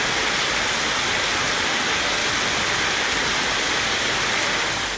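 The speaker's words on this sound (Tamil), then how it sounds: "திடீரென பெய்த மழையால் வாகன ஓட்டிகள் நனைந்தபடி சென்றனர்" A sudden rain shower over streets in Nagercoil, Tamil Nadu, as a steady, loud, broadband hiss with no pauses or voices.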